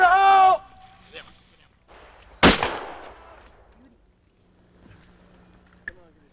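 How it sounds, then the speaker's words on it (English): A military training thunderflash, a charge simulating a hand grenade, goes off once with a sharp loud crack and short rumbling tail, after a raised voice shouts; several faint pops and distant voices follow. "The force of a thunderflash explosion is equivalent to half a stick of dynamite."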